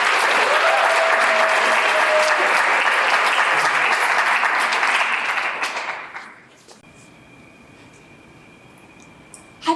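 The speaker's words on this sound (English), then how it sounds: "Let's give Lethabo a round of applause." An audience at a talk event gives a round of applause for the next speaker, loud and dense clapping that holds steady before fading out near the end, leaving a quiet room.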